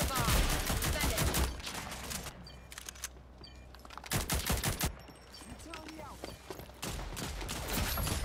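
Automatic and single-shot gunfire crackles through a ranked Demolition match in Rogue Company, dense bursts coming in waves with brief lulls, mixed with game effects and a voice speaking over the action.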